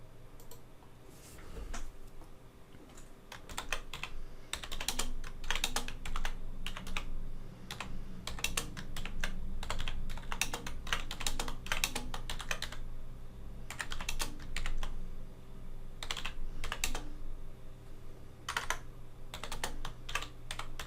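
Rapid bursts of clicking keys as text is typed on a computer keyboard, close and fairly loud, in uneven runs separated by short pauses.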